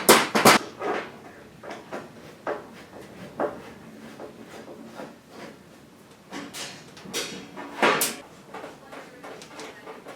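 Back door of a Rock-Ola 430 jukebox cabinet being removed: a series of sharp metallic knocks, clanks and rattles spaced irregularly, close and fairly loud, with no talk.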